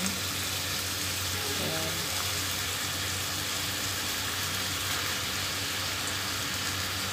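Round mushrooms and sliced beef frying in a pan give a steady, dense sizzle that holds unbroken throughout, with a voice briefly speaking over it.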